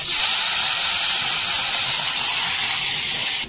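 Fish fry in a little hot oil with a loud, continuous, close hiss of sizzling that stays steady throughout and cuts off abruptly at the end.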